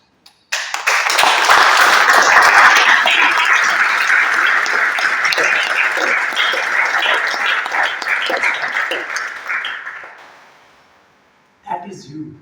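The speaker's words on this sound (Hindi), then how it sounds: "जो इस सपने को जीना चाहता है जोर से अपने लिए ताली बजा देना" An audience at a college training and placement club talk claps loudly for themselves, dense sustained applause for about ten seconds that fades out before a voice briefly returns.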